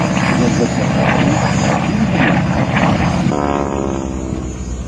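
Propeller aerobatic airplane flying overhead at an air show at Dijon air base, a loud droning engine roar with a noticeable pitch shift as it passes, then fading slightly.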